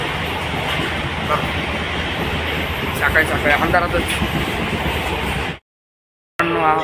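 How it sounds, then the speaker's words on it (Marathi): A steady rumbling roar of a moving passenger train from Jalna to Chhatrapati Sambhajinagar with rhythmic rattling, a voice speaking over it, then a sudden brief cutout before the noise resumes. "रेल्वे आत्ता चालली संभाजीनगरला, छत्रपती संभाजीनगरला"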